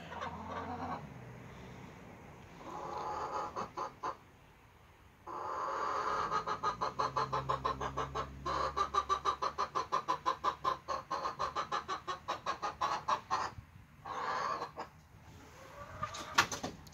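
Young Gilan white chickens hatched this year, some just starting to lay, cluck in a rapid run of repeated clucks near the middle, with softer calls before and after, close and alone without talk.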